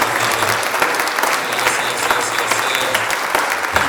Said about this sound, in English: Please give a round of applause to Minister